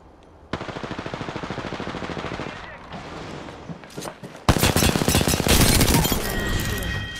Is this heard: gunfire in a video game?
yes